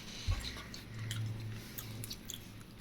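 Chicken biryani is chewed close to the microphone, soft wet mastication with a few squishy bites, quiet and unhurried with no talking.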